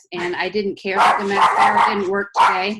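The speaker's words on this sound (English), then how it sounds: "that's my dog" A small dog named Rocky barks and yips repeatedly in close, excited bursts while someone talks over it indoors.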